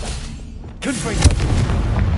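Hogwarts Legacy's Confringo blasting curse erupts after a quiet moment: a sudden loud burst, then a deep punchy boom and lingering rumble, close and full.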